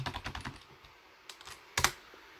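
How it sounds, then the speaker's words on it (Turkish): Fingers type a message on a computer keyboard: a quick burst of clicking keystrokes, a pause, then a few louder isolated key presses, close and clear with no talking. "burada herhangi bir mesaj yazıyorum arkadaşlar"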